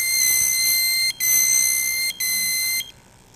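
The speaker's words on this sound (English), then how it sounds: "making a really annoying beeping sound" A GMI PS200 multigas detector sounds its low-oxygen alarm: loud, piercing electronic beeps held in long tones, three bursts separated by brief gaps, close and alone.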